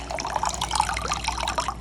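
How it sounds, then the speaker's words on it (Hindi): Water pours and trickles steadily into a homemade cooler, a continuous close liquid splashing with small bright drips throughout. "अब ये पानी डाल रही है।"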